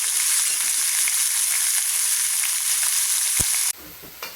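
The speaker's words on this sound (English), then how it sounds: "The beef is searing for about a minute now" Beef sears in a single layer in a hot pan for an oyster sauce stir fry, a loud, steady close-up sizzle that cuts off abruptly near the end, leaving a quieter crackle.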